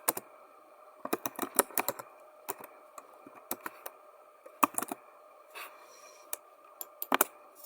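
Someone types on a computer keyboard in bursts of sharp, close clicks separated by short pauses, with an uneven rhythm against a quiet background.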